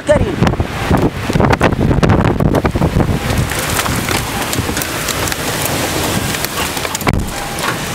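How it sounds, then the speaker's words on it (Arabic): A violent storm with heavy rain, strong wind and hail roars in a dense, loud wash, with gusts buffeting the microphone and scattered sharp impacts, a voice faintly present underneath. "شوفها، واو، عاصفة خطيرة، عاصفة صعبة جدا غير عادية."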